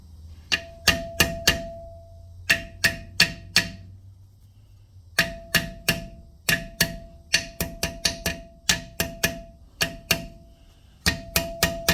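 Someone taps an EZGO golf cart rocker seal into place with sharp, close knocks. They come in quick bursts of three or four, separated by short pauses, with no talking.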